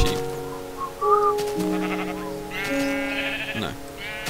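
Sheep in the Minecraft video game, heard on a pony-themed server, give several short, nasal bleats in a row, clear and up close over a steady background of game sounds.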